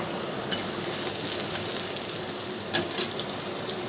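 Chopped onion sprinkled with salt sizzling in a pan, a steady close frying crackle with occasional soft pops and stirring, no voices.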